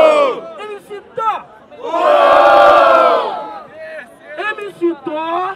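A crowd at a street rap battle in São Gonçalo cheers and shouts loudly for a rapper during the audience vote. A host's short calls come before and after the swelling roar.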